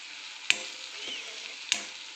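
Mixed vegetables for a Kolhapuri mix veg dish sizzle in a hot pan, a steady hiss broken by two sharp spoon-on-pan clinks about a second apart.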